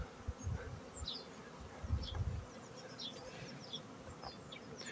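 Honey bees out on their spring cleansing flight buzz steadily around the hive, with individual bees droning past up close over low rumbling wind and handling noise that eases after the first couple of seconds.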